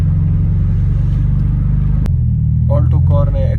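A car engine idles steadily after a jump start, a close, even rhythmic throb that shifts pitch slightly partway through. A person starts talking over the running engine near the end.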